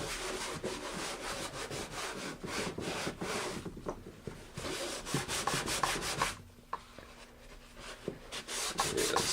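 Rough plastic on a Tarpon 120 kayak hull is scrubbed by hand in quick repeated back-and-forth strokes, close and rasping, with a short pause before the scrubbing resumes.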